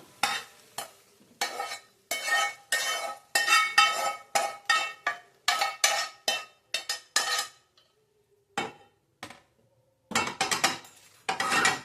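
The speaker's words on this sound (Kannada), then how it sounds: "ಬೇಗ ತಣ್ಣಗಾಗಬೇಕಂದ್ರೆ ಒಂದು ತಟ್ಟೆಗೆ ಹಾಕ್ಕೊಂಡು ನಾನೊಂದು ತಟ್ಟೆಗೆ ಹಾಕ್ಕೊತಾ ಇದ್ದೀನಿ." Cooked food is scooped and scraped onto a plate with a spoon, in short clinking bursts separated by brief pauses, close and clear with no talking.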